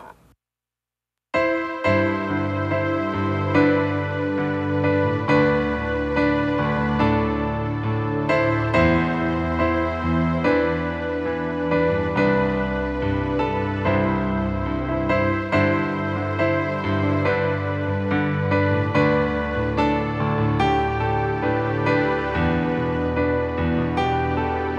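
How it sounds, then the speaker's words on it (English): After a brief silence, piano and pad strings play a chorus melody, the sustained chords layered into a full, orchestral-sounding texture that holds steady throughout. "Notice as well that I'm using piano and pad string sound."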